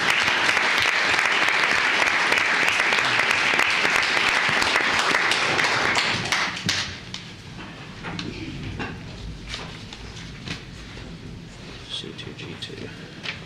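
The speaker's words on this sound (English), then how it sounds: "Let's give them a round of applause." Applause rises at a Commissioners Court meeting after a unanimous vote, a loud, dense crowd clapping for about six seconds before thinning into scattered claps and room murmur.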